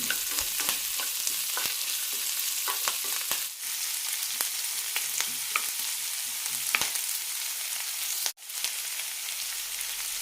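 Onion, ginger, green chilli and curry leaves sautéing in a pan for flattened-rice upma, a steady close sizzle with repeated scraping stir strokes throughout, no talking.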